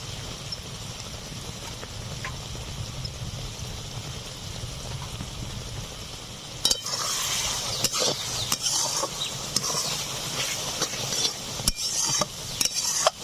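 Hog plum pickle being stirred in a pan with a fried spice mix added, with soft scraping and a low sizzle that is steady at first, then turns into sharper, louder clinks and scrapes in the second half.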